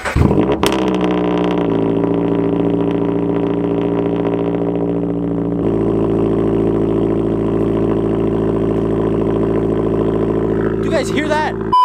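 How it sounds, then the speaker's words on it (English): A Subaru BRZ fitted with a custom exhaust fires up on a cold start with a sharp burst, then settles into a loud, steady, droning idle that holds close by, with a brief voice near the end. "I'm gonna film a cold start for you guys."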